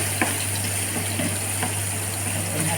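Fresh tomatoes and mixed vegetables with canned tuna are stirred in a hot pan, giving a steady close sizzle with faint scraping stir strokes throughout and no talking.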